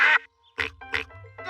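Cartoon ducks in a Peppa Pig episode give a few loud, close, nasal quacks in quick bursts separated by short gaps.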